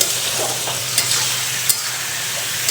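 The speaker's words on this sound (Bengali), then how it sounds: "বন্ধুরা এখন আর একটু নেড়ে দেব।" Vegetable curry being stirred in a pan over lowered heat, a continuous sizzle with a few brief spatula scrapes and knocks against the pan, close and fairly loud, without talk.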